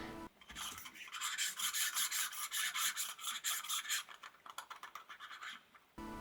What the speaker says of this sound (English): when you move around this Tiffen filter, it wobbles, it makes sounds that don't sound really good